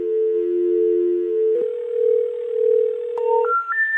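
A landline dial tone plays on a podcast phone line, one steady held tone that shifts slightly partway through, followed by a rising series of short dialing tones.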